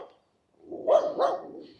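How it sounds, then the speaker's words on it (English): An excitable dog barks from behind a fence on a morning walk in Innisfail, Australia, giving two close, loud barks after a brief quiet start. "Hello, doggy. Excitable."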